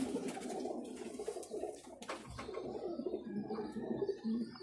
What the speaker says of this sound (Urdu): گولڈن کبوتر ماشاءاللہ